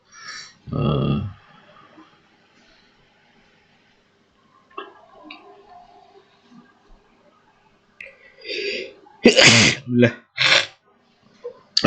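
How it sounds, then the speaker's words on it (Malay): Someone indoors lets out a single sharp sneeze near the start, then later a cluster of loud bursts that could be further sneezes or throat noises, with quiet room tone and faint sounds between them. "Sorry, bersin pula."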